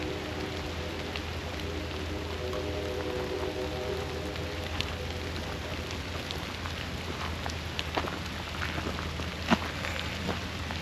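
Steady rain falls outdoors at Stone Mountain on a foggy day near water, a soft even hiss with scattered drip ticks throughout, fairly faint and without talk.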